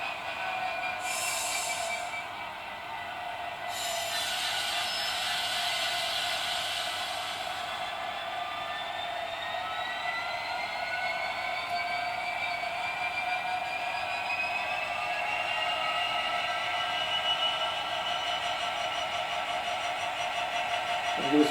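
Class 66 model locomotive running on a test layout with Peco insulfrog points, giving a steady synthetic diesel engine drone with a faint high whine, heard alone and fairly quiet throughout.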